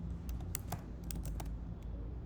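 Computer keyboard typing during a PHP and MySQL coding session, a handful of sharp, distinct key clicks in an irregular rhythm over a steady low background hum, close but fairly quiet.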